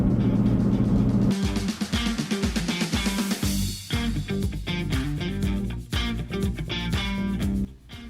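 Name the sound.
1988 Chevy S10 pickup truck engine, 2.5 liter 4-cylinder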